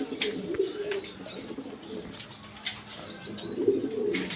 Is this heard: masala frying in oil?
no